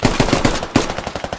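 Video game gunfire in a squad shooter, a rapid burst of machine-gun shots in an even rhythm, loud and close, with a second burst following a brief pause.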